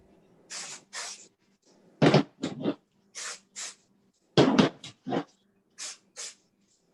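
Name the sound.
spraying mold release spray on pen blank casting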